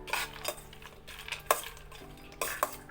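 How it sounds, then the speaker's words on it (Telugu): A spoon scrapes and clatters in a metal pan as fried peanuts are tipped in and stirred, a few sharp clinks over soft scraping, close by. "దీంట్లో ఫ్రై చేసుకున్నాం కదా పల్లీలు ఇవి యాడ్ చేసుకుందాము"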